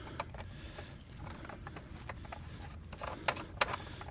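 Hand tightening of a hose fitting on an AQUASTRONG 2HP dual-speed pool pump, with quiet ratcheting clicks and scraping plastic-on-plastic turns repeating close by, growing slightly sharper near the end.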